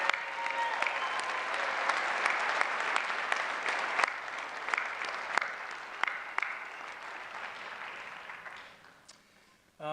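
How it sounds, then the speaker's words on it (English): A crowd at a college science pre-commencement ceremony applauds award recipients, steady dense clapping that gradually thins and dies away at the end. "let's give all of our award recipients one more round of applause"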